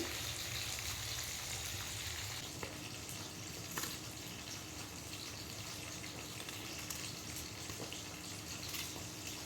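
Meat seasoned with salt and turmeric sizzles steadily in a pan, a dense, continuous frying hiss that holds at an even level throughout with no voices.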